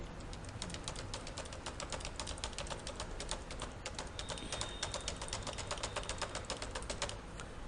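Values are typed into Excel on a computer keyboard: rapid, continuous clicking keystrokes in a quick irregular rhythm, close and soft, with no one speaking.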